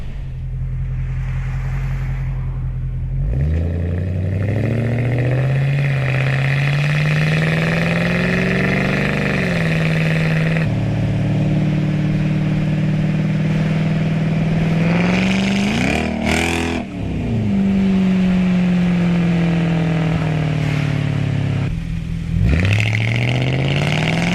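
A Jaguar XK8 engine is heard from outside the car, close to the number plate, idling and then revving repeatedly through rising and falling sweeps, loud and continuous for over twenty seconds with a sharp rev near the end.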